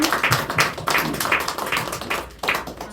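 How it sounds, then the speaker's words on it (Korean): A church congregation at a Sunday service claps in uneven bursts of taps, a small group applauding close by with a brief pause before the clapping resumes. "우리 장로님께 박수 좀 해주세요"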